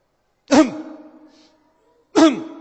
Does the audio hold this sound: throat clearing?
yes